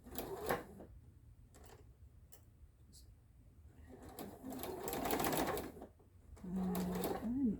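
Domestic sewing machine stitching quilt pieces in a row with a 1/4 inch seam, running in bursts of steady mechanical whir and clatter with pauses between, fairly close but not loud.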